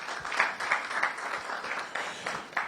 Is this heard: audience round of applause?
yes